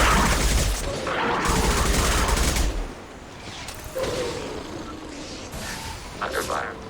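Rapid bursts of gunfire ring out in Mass Effect 2, loud and dense for the first few seconds, then sparser shots and mechanical clatter follow as voices speak in between.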